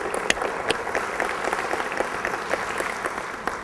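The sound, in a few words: audience applause for a veteran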